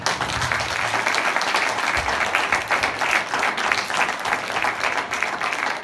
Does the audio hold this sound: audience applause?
yes